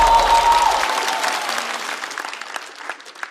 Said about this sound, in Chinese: 掌声欢迎孙书恒